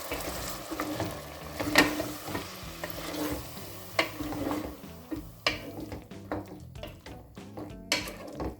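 Herb paste of coriander and mint for green chicken pulao is being stirred in a hot pan, with steady scraping strokes and sizzling, close and moderately loud, with sharper clacks toward the end.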